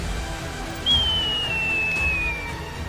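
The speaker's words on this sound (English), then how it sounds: "you do hear a faint whistling" A glaive larger than a person, flying past a ziggurat in a Warcraft battle scene, gives a single faint whistle that glides slowly downward for about a second and a half over a steady low background rumble.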